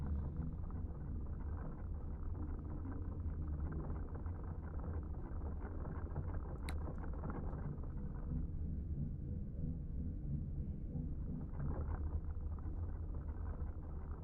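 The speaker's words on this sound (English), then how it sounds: "Definitely getting some engine noise. That is the sound of an engine right there." A distant ship engine picked up while listening in a submarine video game: a steady, muffled low rumble that persists evenly throughout with no speech, with a brief faint click partway through.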